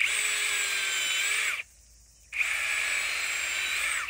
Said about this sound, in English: And so a few drill holes around the outside.